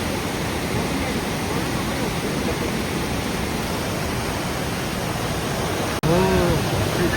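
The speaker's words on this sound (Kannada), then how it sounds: "ತ್ರೀ ಲೇಯರ್ಸ್ ಇದೆ ಫಾಲ್ಸ್." Kalu Falls, a three-tiered waterfall, pours in a dense, continuous rush of broadband roar that stays steady throughout, with a brief cut near the end followed by faint whistling tones over the water noise.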